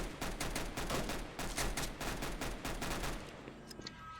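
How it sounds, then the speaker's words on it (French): Gunfire in the Roblox game Mad City, a dense rapid series of loud shots rattling almost continuously before thinning out near the end. "On va essayer de sniper."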